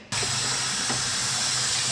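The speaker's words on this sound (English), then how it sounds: "you put it under hot water till the glass plate is hot" Hot tap water gushes steadily over a glass plate, a loud, even hiss that starts abruptly and runs unbroken with no voices.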